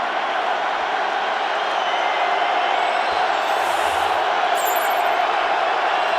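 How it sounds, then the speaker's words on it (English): A large football stadium crowd roars steadily before overtime in a Giants game, with a continuous dense wall of cheering and shouting throughout, loud and sustained, with scattered whistles above it. "This crowd has gotten into it."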